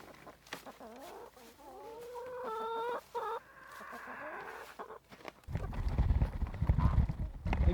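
Chickens on a homestead give a string of clucks and drawn-out squawking calls, fairly close, before the calls give way to loud rustling and shuffling.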